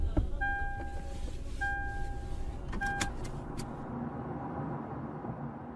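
A car door chimes and a beeping alert sound inside a car as someone gets in, with faint clunks and a low engine rumble under a quiet hiss.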